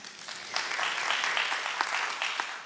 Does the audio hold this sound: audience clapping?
yes